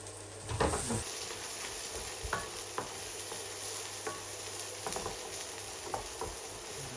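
Curry spices frying in oil in a pan, with a steady bright sizzle running throughout and intermittent scraping taps of a utensil stirring, close and continuous, no talking.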